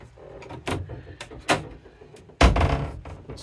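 A wooden drawer in a large chest of drawers aboard a 1974 Grand Banks 42 Classic trawler, giving a few soft scrapes and knocks before a firmer thud as it shuts, close by in a quiet cabin.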